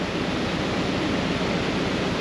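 An open gate paddle on a leaky Wigan canal lock pours out water in a loud, continuous close-up roar, dense and even with no pauses and no voices over it.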